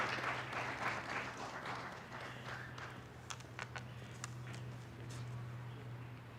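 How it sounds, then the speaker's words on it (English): Audience applause at a university spring graduation ceremony, a steady wash of clapping from a crowd that continues throughout and gradually thins, with a low steady hum underneath. "Let's give him a round of applause."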